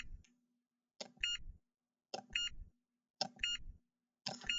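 Grocery checkout beeps ring out in evenly spaced bursts about once per second, each a short, bright electronic tone with a soft thump underneath, separated by near-silence.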